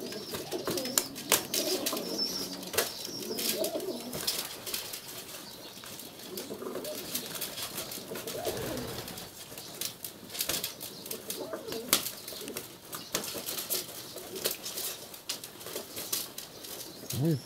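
Pigeons fight in a basin, scuffling with rapid wing flapping, thumps and low coos, close and busy throughout, with bursts of sharp clatter.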